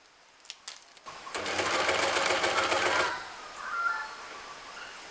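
A sewing machine stitching garments off grid in a jungle runs in one loud, steady whirring burst of about two seconds, preceded by a few faint clicks and followed by quieter background noise.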